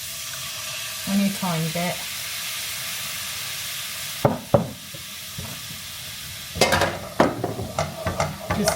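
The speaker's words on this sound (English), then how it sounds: "I'm gonna chuck a bit of red wine in just to deglaze this bit" Red wine goes into a hot pan that held floured kidneys for a steak and kidney pie, giving short bursts of sizzling and scraping as the pan is stirred, with brief talk early on.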